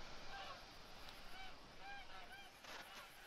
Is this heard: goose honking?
yes